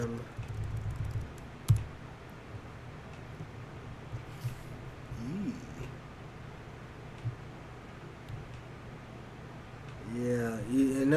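Scattered keyboard keystrokes as a Linux terminal command is typed, faint clicks spread over a quiet background, with a loud thump near the start and a brief voice toward the end.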